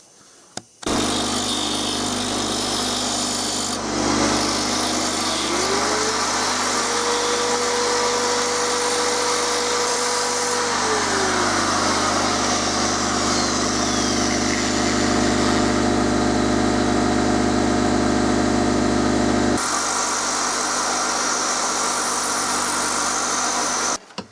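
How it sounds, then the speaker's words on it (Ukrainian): An electric drill spinning sandpaper grinds a homemade perch spinner lure into a cone shape, a loud, continuous motor whine with a shifting grinding tone that runs almost the whole time, close up and without talking. "І зараз уключу дрель і наждак."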